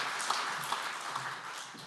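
Church congregation clapping to welcome a pastor at a men's fellowship prayer meeting, a soft, diffuse, even roll of many hands heard from a distance in a reverberant hall.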